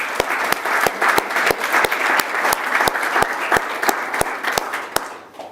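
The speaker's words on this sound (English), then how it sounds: "I want to give a round of applause to Kathy." Applause at a city council meeting: a small group claps with sharp, distinct hand claps in a steady patter over a soft wash of clapping, fading out near the end.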